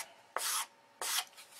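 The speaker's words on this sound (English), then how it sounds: "You want to be sanding a radius in it." Sandpaper rubbed across a wooden stabilizer for an electric control-line model Thunderbolt, shaping a rounded radius: two close, distinct rasping strokes, each about a quarter second long, with a brief quiet gap between them.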